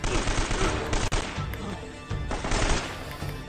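Rapid gunfire from the Uncharted video game, a dense, loud burst of shots filling the whole stretch with brief dips, no talk over it.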